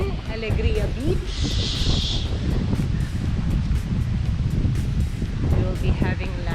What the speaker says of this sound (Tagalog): mahangin po kasi po amihan season